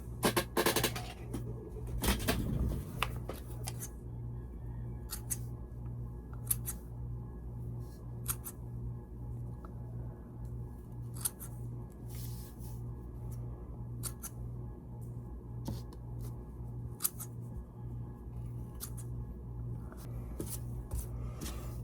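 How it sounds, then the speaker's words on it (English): Sharp scissor snips cutting fabric loops repeat at an uneven pace, quiet and close, over a steady low hum with no talking. "now I'm going to cut these loops. I need a sharp pair of scissors."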